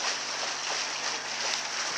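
A boat engine drones on a river during a trip upriver. A steady, unbroken wash of motor and water noise holds at a constant level for the whole moment.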